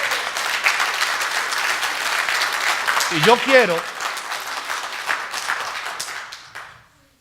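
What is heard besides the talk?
congregation applauding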